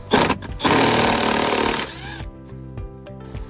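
A 10mm socket on a ratchet removes a console bolt in a Jeep JL/JT: a loud buzzing power-tool burst up close, then a trail of rapid ratchet clicks and light taps, with no speech.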